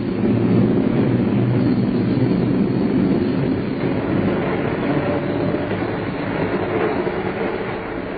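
A train rumbles along at speed, a dense continuous roar of wheels and carriage noise that stays loud and steady throughout.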